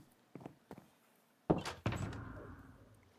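A wooden chest shutting in Minecraft gives a solid thunk followed by a short creaking slide that fades, with two light taps just before it and no voices.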